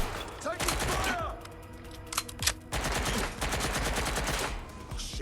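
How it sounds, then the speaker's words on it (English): Gunfire in the video game Watch Dogs Legion, with sustained bursts of rapid automatic shots and scattered single cracks, loud and dense throughout, overlaid by game voices shouting. "Taking fire!"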